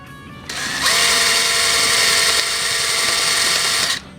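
A countersink bit grinds steadily into a WW2 fuel petcock fitting, a loud, bright continuous whine starting abruptly, holding for about three seconds, then cutting off.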